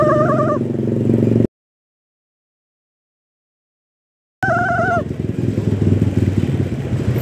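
A Honda Click 125 scooter rides fast and overtakes, its engine droning steadily with road and wind noise; the sound cuts out for a few seconds mid-ride, then returns just as loud and busy.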